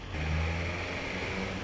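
A BMW S1000 motorcycle engine runs with a steady mid-pitched drone that swells slightly early on, fairly quiet and continuous with no voices.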